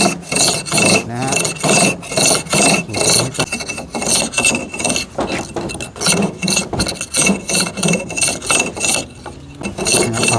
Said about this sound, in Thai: ใช้มีดนี้ขูดเลยนะฮะ